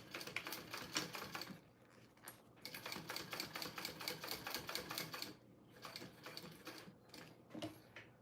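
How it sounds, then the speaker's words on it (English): Sewing machine top stitching a mini backpack, running in rapid mechanical bursts with short pauses between passes, close and steady. "I think I'm going to do 2 rounds of top stitching"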